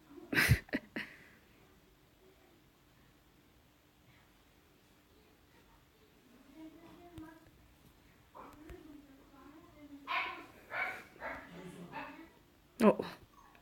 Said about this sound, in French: Mon petit chiot fait ses cordes vocales.